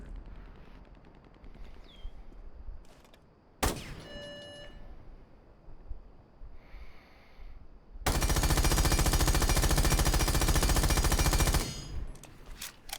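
Automatic gunfire from IQ's weapon fitted with a compensator in Rainbow Six Siege, a loud continuous burst of about three and a half seconds preceded by scattered shorter shots and game sounds, with no talking.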